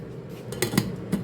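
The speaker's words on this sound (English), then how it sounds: "I'm just going to pop a lid on." A lid set onto a pot of noodles being partially steamed in just-boiled water, giving a few light metallic clanks and clatters close by, with no talking.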